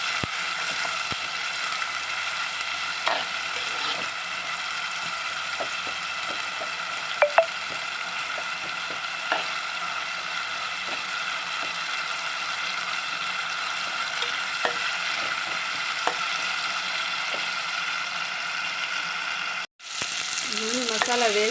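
Ginger garlic paste and masala frying in a pan, a steady continuous sizzle lasting throughout with faint stirring clicks and scrapes, broken by a brief gap near the end.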